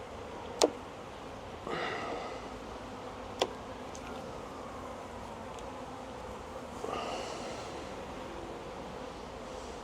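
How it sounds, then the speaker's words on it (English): Honey bees buzzing around an open beehive during a queen-cell inspection, a faint continuous hum with a couple of sharp clicks and brief swells as bees pass close by. "There's quite a number of bees in here"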